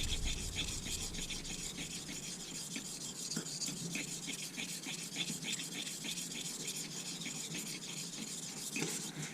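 A Gold Dollar straight razor is honed on a stone, giving a continuous soft scraping rasp with rhythmic strokes, faint and close, with no voices.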